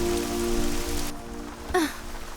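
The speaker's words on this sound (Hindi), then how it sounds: "न्यूयॉर्क में अचानक बारिश शुरू हो गई?" Sudden rain pours down in a New York street scene from a Hindi-dubbed romance film, a steady broadband hiss of drops on surfaces with a brief splash-like swell near the end, under a droning music tone.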